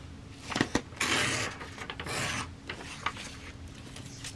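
Paper edges are torn by hand for a small art collage, producing soft, close rasping rips in short uneven bursts with quiet pauses between.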